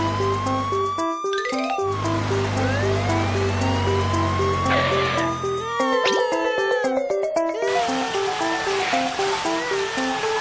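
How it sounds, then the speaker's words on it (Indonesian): A cartoon toy fire truck drives in a children's vehicle book app, with a low engine hum, a wailing siren and a string of playful chimes and sweeping electronic effects, fairly loud and busy throughout. "Mobil pemadam kebakaran, jalan."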